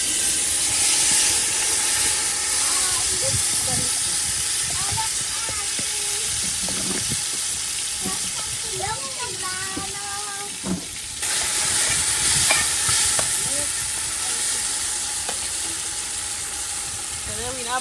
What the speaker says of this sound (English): Time to fry the curry.